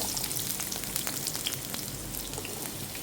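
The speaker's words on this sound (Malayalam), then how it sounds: "ഇതിലേക്ക് ആദ്യം തന്നെ നമുക്ക് ആ ഉള്ളിയും വെളുത്തുള്ളിയോടെ ഒന്ന് ഇട്ട് കൊടുക്കാം" Onion and garlic frying in sunflower oil, a steady soft sizzle with scattered crackles and pops, fairly close and continuous, no voices.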